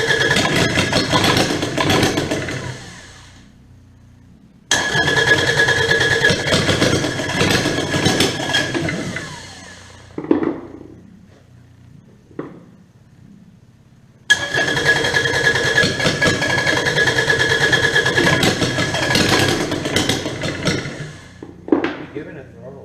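A Kubota D722 diesel engine with a newly installed pump runs in two loud stretches close by, with throttle given, a brief stop in between, and short sputters and pops as it dies away.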